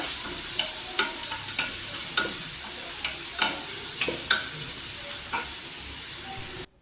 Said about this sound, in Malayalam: പത്ത് ഏലക്ക പത്ത് ഗ്രാമ്പു ചെറിയ പട്ട ചെറിയ പീസാക്കിയത് പത്തെണ്ണം അങ്ങനെ മൂന്ന് ഒന്നിച്ച് ഈ ഉള്ളിലേക്ക് ഇട്ട് വഴറ്റിയെടുക്കുക